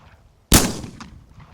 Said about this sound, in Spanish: Con premura coló el cañón largo de su escopeta entre estas y realizó 2 estruendosos disparos.